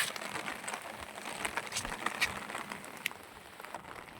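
Light rain falls over a rural spot with mango trees and fields, a faint steady patter with scattered soft drip ticks throughout.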